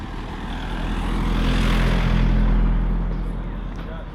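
A vehicle passing on a street in Rijeka, Croatia, a broad engine rumble that swells toward the middle and fades away over four seconds, heard close and loud outdoors.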